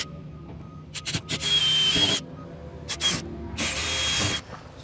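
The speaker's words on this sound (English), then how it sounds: "so drilling a pilot hole" A power drill with a small bit bores a pilot hole straight through a garage door during installation, whirring in short bursts and then two longer runs, close and fairly loud, with no talk over it.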